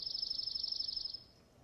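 Backyard bird sings a steady trill of rapid, evenly spaced notes that stay at one pitch, fairly clear and close, then stop abruptly, leaving quiet background.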